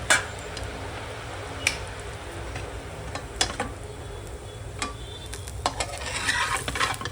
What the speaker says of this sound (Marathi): मध्ये थालीपीठ सोडूया. व्यवस्थित चारी बाजूने तेल टाकायचं, म्हणजे कसं आपल्याला ते भाजलं चांगलं जाणार.